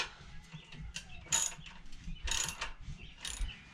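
A hand ratchet tightening bolts during a Hisun 196cc engine install on a Coleman CT200U-A mini bike, giving a few quick clicking pawl bursts in short rhythmic strokes, close but quiet.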